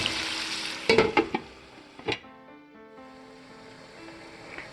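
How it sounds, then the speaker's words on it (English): Sausage and bell peppers cooking in a pan: a few sharp clatters and sizzle bursts at the start, then a lid goes on and a soft, steady simmering hiss continues quietly. "So we're going to simmer this for about 5 minutes, maybe 5 to 7 minutes."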